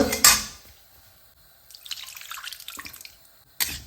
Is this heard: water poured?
yes